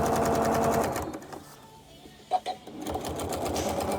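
A sewing machine stitches in the ditch on a quilt in rapid, even bursts, pausing briefly in the middle with a soft clunk before resuming; close and clear.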